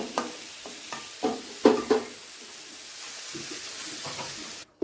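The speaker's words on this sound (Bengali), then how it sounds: "বেগুনগুলো সুন্দর লাল লাল করে ভেজে নেওয়া হয়ে গেছে" Eggplant pieces fry in oil in a pan while being stirred, with several sharp spatula scrapes and knocks over a soft, close sizzle, then a quieter frying hiss, with no talking.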